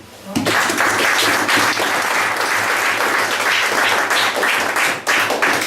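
A church congregation bursts into loud, sustained applause and clapping, filling the room for several seconds after a brief quiet start, with a short dip near the end and some voices mixed in.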